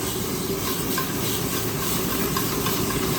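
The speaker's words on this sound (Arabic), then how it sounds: "أول شيء بدأ بشوية زيت مرة قليل، وعليه بصل." Onion frying in a small amount of oil in a pan gives a steady, close sizzle and hiss that runs evenly throughout with no talking.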